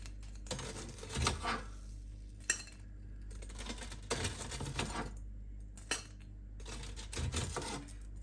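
Tongs clink and scrape against an air fryer basket while lifting out air-fried KFC-style popcorn chicken, with several short metallic taps and a couple of sharper knocks, close and moderately quiet.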